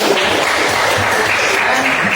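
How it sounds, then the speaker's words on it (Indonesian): Classroom group clapping together after a teacher hands out gifts, a steady dense patter of many hands filling the short stretch, fairly loud and close, with faint voices murmuring underneath. "jadi tepuk tangan buat bersama"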